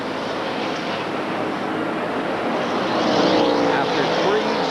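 A NASCAR Winston Cup stock car at speed on the Michigan oval during the 1991 Miller Genuine Draft 400, its engine a steady, loud broadband roar that swells slightly as it passes, with a race commentator talking over it.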